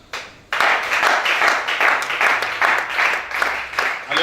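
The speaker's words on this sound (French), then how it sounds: "Acclamation." A congregation at a church service applauds and cheers, a sudden loud burst of many hands after a brief quiet start that keeps up in rolling waves for several seconds, with voices mixed into the clapping.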